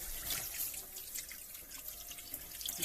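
Fish being washed under running water at a sink, a steady splashing flow from the tap with small drips and trickles, and no voices.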